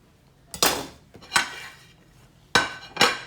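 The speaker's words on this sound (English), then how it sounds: "So let's cut the egg. I need something to cut the egg." A black egg on a plate is cut with cutlery, giving four sharp, close clinks of metal on ceramic, spaced irregularly with quiet gaps.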